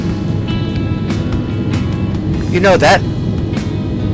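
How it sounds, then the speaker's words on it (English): A low, steady aircraft engine rumble drones throughout a flight simulator game, sitting beneath someone talking for most of the stretch. "engine noise is driving me crazy. It's like a rumbling."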